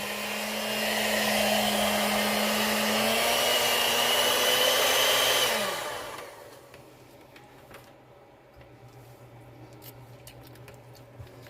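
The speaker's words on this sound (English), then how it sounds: "So I just crushed them in the bowl with the mixer." An electric hand mixer crushes sliced pineapple in a bowl, a steady motor whine that climbs slightly in pitch, then winds down after about six seconds, leaving near silence.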